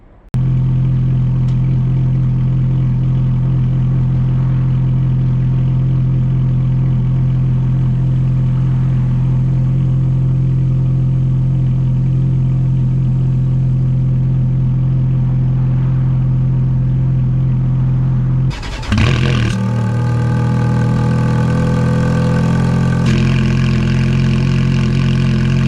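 Ferrari F430 Spider V8 with the roof down, idling with a loud, steady deep burble that is suddenly blipped into a sharp rev, then settles back to a rough idle; no voices.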